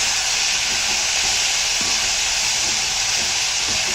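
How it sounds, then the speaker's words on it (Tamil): Ivy gourd sautés in a pan, a steady, even sizzle and hiss that carries on unbroken and fairly loud, with no voices over it. "இது வந்து கொஞ்சம் நல்லா வதங்கட்டும்."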